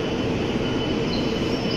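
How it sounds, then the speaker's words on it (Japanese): A steady, loud rumble of a Shinkansen bullet train departing Nishi-Akashi station, with a faint high whine, continuous and close, with no voices. "列車まもなく発車。"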